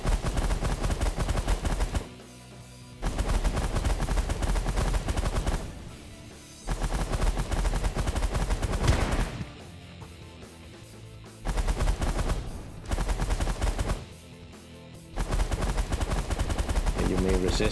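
Automatic weapons fire in the space strategy video game The Last Federation: long, dense rattling bursts separated by short pauses, loud and sustained across the clip.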